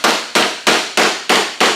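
Six sharp, evenly spaced hammer blows ring out on a junkyard car's door panel backed by a dolly during bodywork restoration, each strike loud and close with a quick decaying ring.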